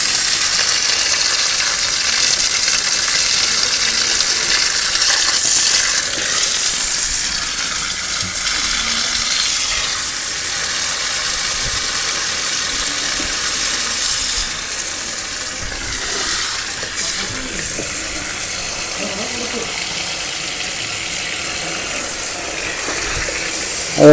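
Water is sprayed or pumped out in a loud, continuous hissing rush that holds steady for the whole stretch, with a few small mechanical clicks and no voices.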